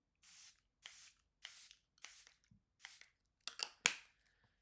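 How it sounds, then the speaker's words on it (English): A series of short hissing bursts of Charlotte Tilbury setting spray misted onto a face, about six in a row with brief pauses between, close and fairly quiet, ending with a couple of sharper spritzes. "Then I'm going to hit my face with some setting spray from Charlotte Tilbury."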